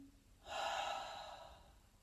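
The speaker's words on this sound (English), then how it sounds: "that's called out breath" A single deep breath out during a workout, a soft airy exhale starting about half a second in and slowly fading over the next second and a half, close and alone.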